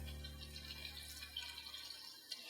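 Water poured into a hot pan of Japanese souffle pancakes, a faint soft trickle and sizzle with light drips, fading out near the end, no talking.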